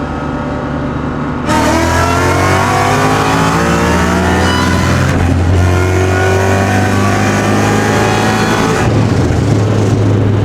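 A Ford Mustang on new, oversized tires accelerates hard in a 60 roll, the engine roaring loud and close with rising revs, a brief shift dip midway and a continuous, aggressive drone to the end.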